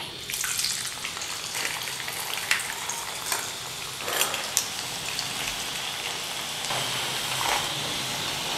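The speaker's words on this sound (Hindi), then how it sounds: "अब इनको दोबारा फ्राई करते हैं और तेज़ फ्लेम पर हमने दोबारा फ्राई करना है" Potato fries deep-fry a second time over a high flame, giving a steady, dense bubbling sizzle of hot oil throughout, close and fairly loud, with occasional sharper crackles and no talking.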